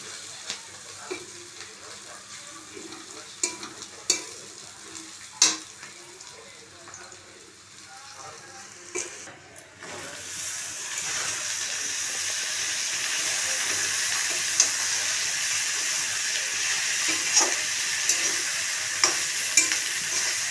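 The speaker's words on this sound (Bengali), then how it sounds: "তারপরে কালো জিরে দিয়েছি, তারপরে পেঁয়াজ ভাজছি, এরপরে ঝিঙা দিয়ে দেবো" Onions fry with black cumin in a pan, with stirring clicks throughout; around ten seconds in, ridge gourd goes in and a louder, steady broadband sizzle takes over, with occasional scrapes.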